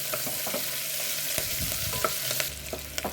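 Sliced onions and green chillies fry in a pan for a biryani-style lunch dish, making a steady close sizzle with scattered crackles and occasional stirring scrapes.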